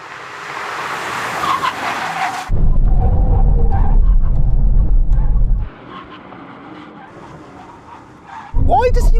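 An Aston Martin makes a full emergency stop from 100 mph, with a loud burst of tyre skid and car noise. A steady roar follows and then fades to quieter rumbling, and another loud burst comes at the end, mixed with people talking.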